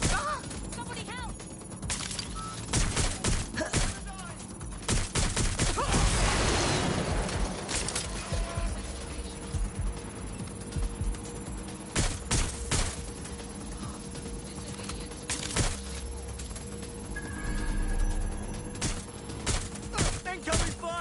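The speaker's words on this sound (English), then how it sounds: "Incoming fire!" Gunfire in Watch Dogs: Legion on PS5, repeated sharp cracks and bursts of shots scattered across a busy, noisy scene, with shouting voices mixed in among the firing.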